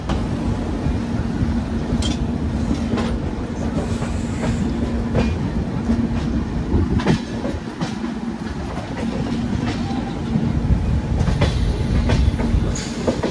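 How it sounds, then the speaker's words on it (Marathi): Mandovi Express passenger train running on the Konkan Railway out of Mumbai CSMT toward Madgaon, a steady loud rumble of rolling wagons with repeated clickety-clack wheel beats over rail joints throughout, close and continuous, no talking. "आपला प्रवास चालू झाला आहे CSMT ते मडगाव, अर्थातच कोकण रेल्वेनी मांडवी एक्सप्रेस"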